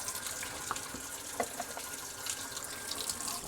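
Tap water running steadily into a sink while a dish is washed, a continuous close splashing hiss with small clinks, no talk.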